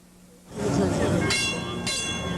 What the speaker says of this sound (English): now there's a new way to travel in L.A., light rail